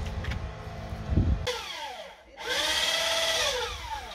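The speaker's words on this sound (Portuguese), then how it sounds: "Nesse momento fazendo um furo para cruzar as 3 madeiras para fixar um parafuso." A drill bores a hole through three stacked pieces of eucalyptus wood while a kiosk is built, the motor whining with rising and falling pitch, a brief pause, then a sustained drilling run.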